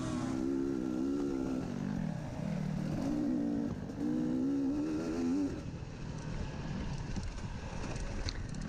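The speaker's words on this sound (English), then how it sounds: "So now I'm revving my engine again, saying, hey man, I'd like to get by." Off-road racing engine revving during a senior cross-country motorcycle race, rising and falling whines in several bursts close to the rider, sustained and loud amid wind and terrain noise.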